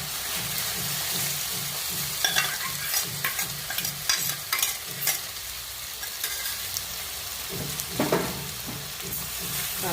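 Cooked quinoa being stirred in a hot pan, with a steady rhythmic scraping of the spoon through the grains over a soft sizzle, joined later by sharper clinks and scrapes against the pan.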